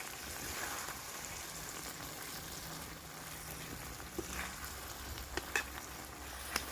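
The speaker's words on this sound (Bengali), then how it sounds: "এইবার চিকেনগুলো আমি দিয়ে দেবো। খুব হালকা আছে, এগুলো ভালো করে কষে নেব।" Chicken pieces for Kolkata-style chicken chaap fry in a pan, giving a steady, even sizzle with a few sharp clicks of stirring near the end, moderately faint and without voices.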